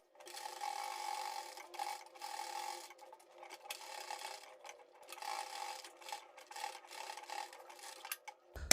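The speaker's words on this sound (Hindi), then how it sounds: "तो यहाँ पर हम अपनी सिलाई कंप्लीट करते हैं।" A sewing machine stitches piping onto a kurti in a quiet, close, whirring run that speeds up and slows in short bursts, then comes to a stop at the end.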